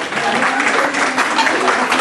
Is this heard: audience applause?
yes